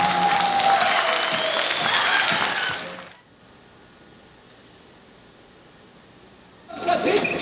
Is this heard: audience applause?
yes